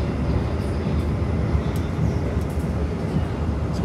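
An Argo Lawu express train runs through Kebumen station at high speed, overtaking the Kuto Jaya Selatan train, with a loud, steady low rumble of wheels and rail noise heard from on board.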